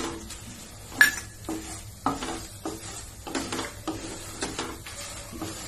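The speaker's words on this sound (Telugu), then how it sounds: "రెండు మిరపకాయలు వేయి బాగా వేయించుకొని మాడిపోకుండా ఆ తర్వాత మెంతులు వేయాలి" Red chillies and fenugreek seeds fry in a pan, giving a soft, steady sizzle with repeated scraping stir strokes roughly every half second, close and fairly quiet.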